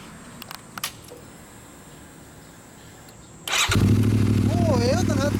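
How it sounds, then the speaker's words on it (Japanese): A 2014 Honda VTR250 motorcycle fitted with a Yamamoto Racing muffler starts up after a quiet pause with a few clicks, then idles loud and steady with a deep rumble up close. "オッケー、エンジン音聞かせてくれる？"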